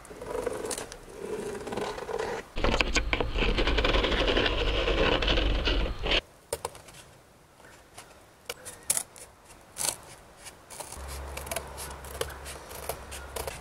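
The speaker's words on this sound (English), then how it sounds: "I'm just gonna trace it onto the cardboard and then cut it out." Scissors cut through cardboard for a homemade Captain America shield, with a loud stretch of close rough snipping and scraping in the middle and scattered lighter cuts and rustles around it, without speech.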